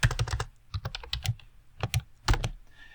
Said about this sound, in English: as I type it